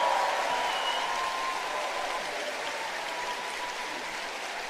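A live audience at a stage performance with singers applauds, dense sustained clapping from a crowd that carries on evenly throughout and fades only slightly.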